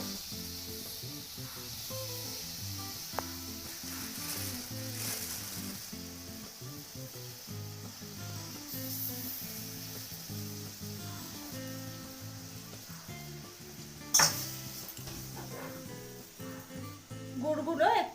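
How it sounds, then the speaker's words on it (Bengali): Jaggery melts in a kadai, a wok-style pan, over a very low gas flame, a faint, soft sizzle hissing under a steady tonal background, with one sharp clatter near the end. "কড়াইয়ের মধ্যে আমি গুড় দিয়ে দিলাম গ্যাসের আঁচটা একদম কমিয়ে দেব"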